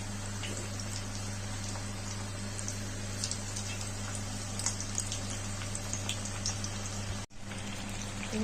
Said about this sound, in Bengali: এটাকে আমি এবার ভেজে নেবো একটা করে।